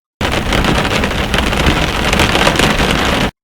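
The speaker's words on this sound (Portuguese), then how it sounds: "ouvindo a chuva bater na janela" Steady, dense rain beats against a window pane, a continuous close hiss of drops with no pauses, loud and alone for a few seconds.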